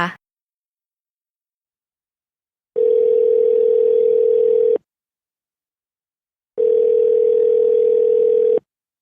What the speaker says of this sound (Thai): กดโทรออกไปยังเบอร์เดิมของเบญญา